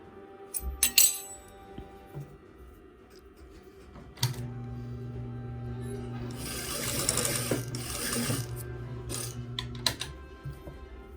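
A sewing machine stitches pleats into thrifted fabric for a pinafore dress: a few short clattering bursts come first, then one steady, close run of stitching lasts about six seconds before stopping.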